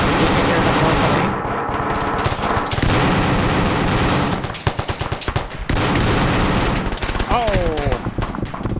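Sustained automatic fire from an M249 machine gun in Arma 3 rattles through a dense in-game firefight, loud bursts layered with other gunfire and a brief voice underneath.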